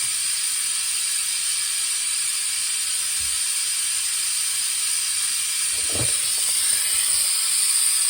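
An oil extractor pump sucking engine oil out of a 2011-2017 Honda, a steady close hiss with a faint gurgling burst near the six-second mark and no talking.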